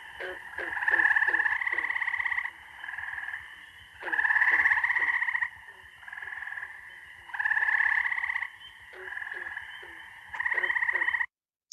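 A Minnesota frog gives a short musical trill that repeats in regular bursts every couple of seconds, with a green frog's low calls faintly in the background on a still night.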